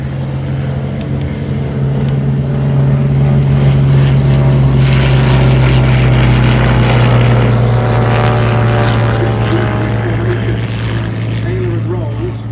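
At an airshow, propeller aircraft fly a wing walking display and hold a loud, steady engine drone with a strong low hum throughout. A commentator talks over the noise.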